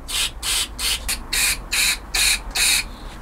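Seven short hissing bursts of aerosol cleaner sprayed into a carburettor pilot jet in quick succession, close and crisp, each lasting a fraction of a second.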